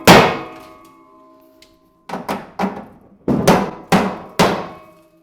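Mallet hammering on a DIY overlanding bed rack, six sharp metallic blows with ringing decay, a single strike then a pause before a quicker run of five, close and loud with no talking.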